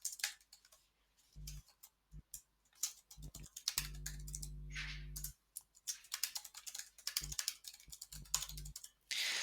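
Clinic notes being typed on a computer keyboard: quick, irregular key clicks and taps in short runs, fairly close, with brief pauses between and a low background hum under parts of it.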